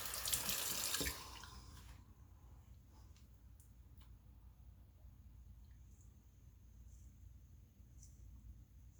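A bathroom tap gushes loudly for about a second as a razor or face is rinsed while shaving, then shuts off, leaving a few faint drips and quiet room hiss.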